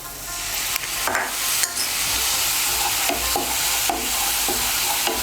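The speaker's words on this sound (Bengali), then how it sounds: "মশলাটা ভালো করে মিশিয়ে নেব। পেঁয়াজ রসুন আদার সঙ্গে মিশিয়ে নিয়েছি।" Tarka masala, a splash of water, onion, garlic and ginger are stirred in a pan for mixed dal tarka: a steady sizzle with repeated scraping strokes of a spoon, each about a second apart, close up and with no voices.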